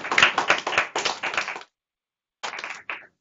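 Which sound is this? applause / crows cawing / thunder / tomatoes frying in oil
applause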